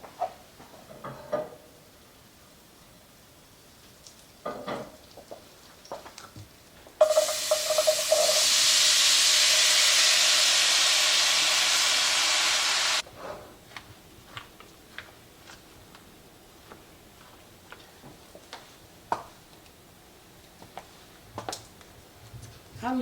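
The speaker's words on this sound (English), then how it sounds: "So I'm going to go ahead and add my apples to the butter." Apples drop into butter in a pan and set off a loud, bright hiss of sizzling that holds for about six seconds, framed by quieter clicks and kitchen taps.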